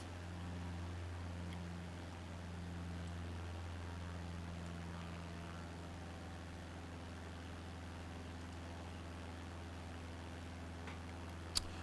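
A Cessna 152 engine in a flight simulator game drones as a low, steady hum, faint and continuous throughout with no talk, ending in a brief click.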